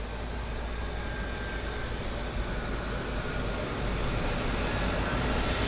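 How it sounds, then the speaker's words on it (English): A De Havilland Canada Twin Otter floatplane taxis out at Vancouver Harbour floatplane base, its turboprop engines giving a steady, loud, broadband roar with a faint high whine that holds unbroken and swells slightly near the end. "It's a Twin Otter taxiing out."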